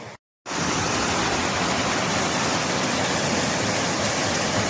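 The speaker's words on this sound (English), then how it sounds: "So many waterfalls and cascades along the way." A powerful waterfall cascading near Wren Gill Quarry above Sadgill in the eastern Lake District roars as a steady, dense rush of water, close and loud, starting abruptly after a brief silent gap and continuing unbroken.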